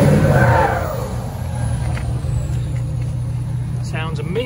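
A 2013 Ford F-250 Super Duty Lariat truck idles steadily with a low, even rumble, close by, preceded by a brief hiss at the start, with a voice talking faintly in the background.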